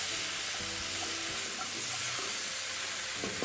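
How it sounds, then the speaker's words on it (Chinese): Pork trotters are stir-fried in a wok over high heat, giving a dense, loud, unbroken sizzle with soft stirring and scraping beneath it, heard up close with no talking. "然后再转大火，继续快炒"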